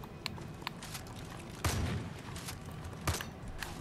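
Gunfire in the zombie video game Dead Living Zombies: scattered shots and a couple of heavier booming blasts over a steady game background, moderately loud with no talk.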